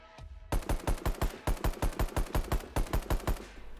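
A semi-automatic rifle in the game Rust fires a long string of about fifteen sharp, evenly spaced shots in quick succession, loud and close, with no voices.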